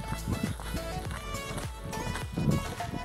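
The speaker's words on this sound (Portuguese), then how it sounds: "Um monte de cavalo ali" Hooves of a group of horses clip-clop and run across a rural field, a steady busy patter of footfalls with occasional snorts over outdoor ambience, fairly close.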